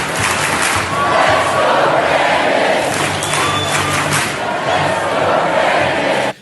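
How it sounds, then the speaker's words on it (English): Stadium crowd chanting "Let's go Brandon" at a college football game, a loud massed roar of voices with rhythmic swells lasting several seconds before cutting off abruptly. "So now they are actually cheering "Let's go, Brandon" as a joke."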